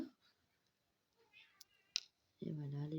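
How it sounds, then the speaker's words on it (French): Cats meowing and yowling at night, a loud drawn-out cry rising suddenly near the end after a quieter stretch of small clicks and faint voices. "les chats qui commencent leur boxon."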